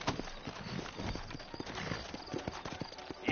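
Horse hooves clip-clop in a steady, quick rhythm in the video game Red Dead Redemption, close and moderately loud over a low rumbling background.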